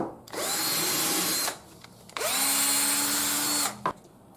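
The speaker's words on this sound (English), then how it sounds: "Drill through." A power drill whines at high speed through a wooden fence board in two long bursts separated by a short pause, loud and close.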